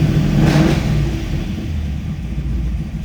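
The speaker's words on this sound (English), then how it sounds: "That chambered exhaust sounds just killer." A 1969 Chevrolet Camaro Z28 with a solid lifter cam and chambered exhaust roars close by, a loud burst of revving that settles into a deep, lumpy rumble.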